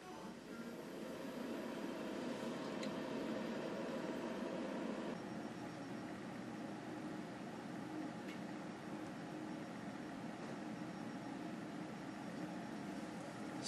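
Rosewill R363-M-BK computer case fans run with a steady, soft whoosh of moving air, a constant even hiss with no rhythm and no talking.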